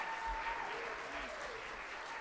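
Dense, steady applause from a student recital and concert audience, somewhat distant and soft, lasting a couple of seconds.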